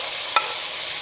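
Tomatoes sizzle in melted butter in a pan, a steady hiss close up with one brief clink of a utensil partway through.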